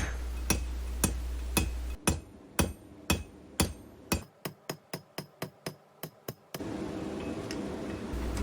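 Hammer blows on a metal rose stem being flattened on an anvil ring out in a steady series of sharp, bright strikes, quickening into a rapid run of lighter taps before stopping, with a continuous low hum of shop noise underneath.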